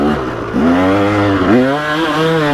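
KTM 300XC two-stroke dirt bike engine revving up loudly and close, with pitch climbing, briefly dropping at a shift, then climbing again.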